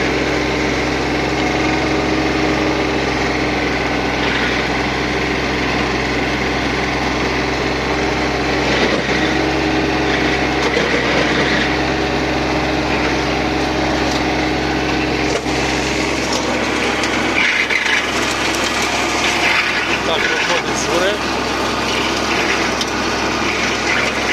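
A tractor-driven Mateng NEFL 95 mulcher grinds steadily with a constant engine drone, punctuated by sharper crunching and splintering bursts as wood is chewed up, continuous and close.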